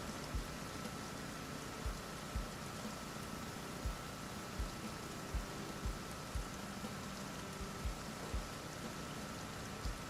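Steady rain hisses evenly in a farming video game, a dense unbroken wash of falling water with soft, regular low taps pulsing underneath throughout, with no voices.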